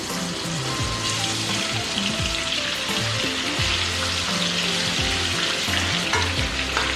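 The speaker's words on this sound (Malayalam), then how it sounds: "ഉള്ളി വറുത്ത എണ്ണ ഇവിടെ ഇരിപ്പുണ്ട്. അതിലോട്ട് നമുക്ക് വറുത്തെടുക്കാം. ചിക്കൻ ഇട്ട് കൊടുക്കാം." Chicken pieces deep-frying in oil previously used for frying onions for Kerala chicken biryani give a loud, steady, dense sizzle with stirring and clinking throughout, close up and with no talk.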